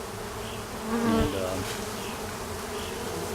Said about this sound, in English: the bees are already fanning at the entrance of my box